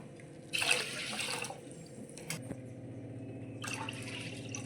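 Water splashes and pours into a pot in two short bursts, with quieter dripping and clatter in between.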